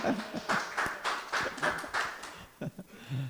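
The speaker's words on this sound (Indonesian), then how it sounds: "itu tepuk tangannya terlambat" Scattered, late applause from a live seminar audience, a few irregular claps spreading across the room at moderate loudness, with faint background murmur.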